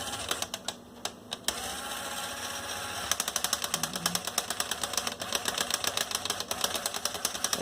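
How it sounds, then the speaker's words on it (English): A Lego Technic motor in a 1:8.3 scale Ram Rebel TRX model whirs and rattles as it drives the tailgate gears, starting after a few scattered clicks and then ticking in a fast, steady mechanical chatter close by. "I'm going to turn on the motor and just kind of try to coax it into gear while pushing the tailgate open."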